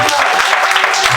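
Wedding guests applaud right after a couple is pronounced husband and wife at a church ceremony, a dense continuous patter of many hands close by, with voices mixed in.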